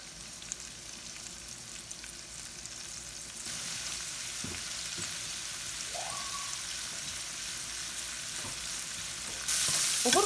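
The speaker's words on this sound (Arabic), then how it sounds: "عندي هذه سنه تاع ثوم راني حطيتهم باش يتقلاو هكا" Garlic cloves frying in hot oil give a soft, steady sizzle with faint stirring and occasional utensil scrapes, quiet and continuous throughout.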